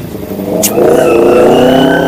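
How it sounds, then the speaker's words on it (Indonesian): A noisy motorcycle engine comes up loud and close, its rough mid-range drone rising and holding steady, with a voice briefly over it. "Motor kamu itu bising sekali"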